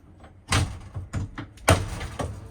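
The outside door of a 2025 Forest River Salem Hemisphere Hyper-Lyte 25BHHL travel trailer opens, a series of close thumps, rattles and latch clunks, including one loud knock, with no talking.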